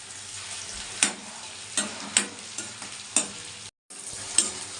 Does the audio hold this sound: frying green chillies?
yes